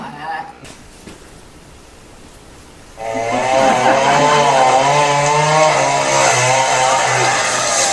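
A chainsaw felling plane trees starts up after a few quiet seconds and then runs loud and continuous, with a steady buzzing drone close by.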